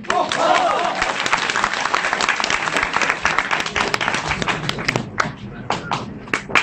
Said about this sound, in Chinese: 鼓掌喂